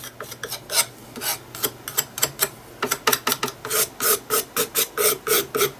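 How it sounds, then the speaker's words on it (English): White metallic paint is scraped onto the edges of a craft piece in quick rasping strokes, starting sparse and then speeding into a close, regular scratching rhythm. "Scrape some of that lovely white metallic-y paint, get some around the edges."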